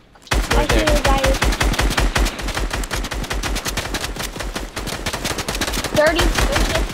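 Dense rapid gunfire from a Fortnite match, sharp cracks packed in fast bursts almost without pause, loud and close throughout, with a few brief tonal game sounds mixed in.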